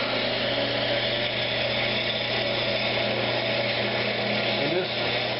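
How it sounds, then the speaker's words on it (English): A wood lathe spins a pecan vase while a tool shear-scrapes its surface, giving a steady, continuous whirring hum with a faint scraping hiss that holds unbroken at close range. "Now I'm just going to start doing some shear scraping and try to smooth up all this area."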